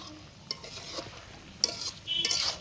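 Vegetables cook in a pot at an outdoor family picnic, a soft sizzle broken by scraping stirs and a few sharp clinks of a spoon against the metal, close and moderately quiet.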